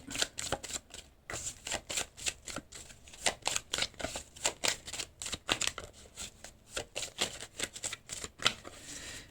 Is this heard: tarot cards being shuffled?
yes